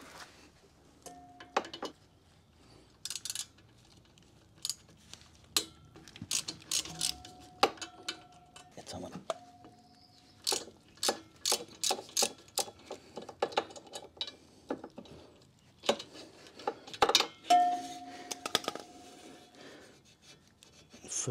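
A wrench loosening the fork clamp bolts on a 2024 Harley-Davidson Road Glide, heard as close, sparse ratchet clicks and metallic turns in short bursts, with brief squeaks and rubbing between quieter gaps.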